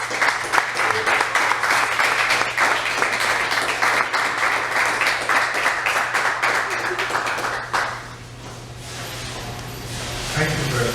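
An audience at a poetry reading applauds to welcome the poet Melvin, a dense, sustained round of clapping that rolls on for about eight seconds before thinning out into quieter room sound with a low steady hum beneath.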